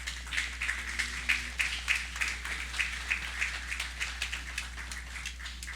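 Scattered audience applause at a National Heroes Day ceremony, a steady patter of claps of moderate loudness spread through the crowd with no talk over it, sitting above a low constant hum.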